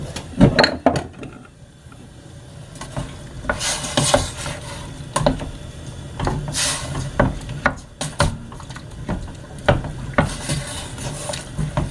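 Dried persimmon jam with added water being stirred in a pot as it heats, giving intermittent scraping and sloshing strokes with brief louder clacks of the spoon against the pot.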